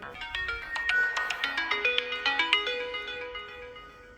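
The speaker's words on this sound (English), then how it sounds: "Someone's phone ringing." A mobile phone ringtone plays inside an abandoned warehouse, a rapid run of bright electronic melody notes that is distant and faint in a quiet, empty space.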